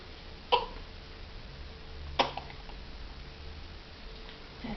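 A baby hiccuping, two soft isolated hiccups a couple of seconds apart over faint room noise, close but quiet.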